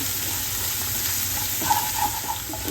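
Garlic and green chillies frying in a pan while being stirred, giving a steady close sizzle with a few brief scraping stir sounds toward the end.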